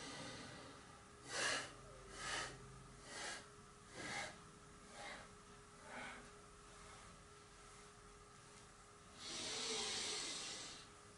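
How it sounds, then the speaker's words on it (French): During a yoga exercise, a person breathes close to the microphone: a run of short, soft rhythmic breaths, then a longer, deeper inhalation near the end. "j'inspire"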